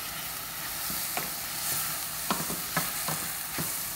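Vegetables being stirred in a frying pan while crepes with crawfish cream sauce are made, giving scraping, rustling stirs over a steady background sizzle, close and moderately loud, with no talking.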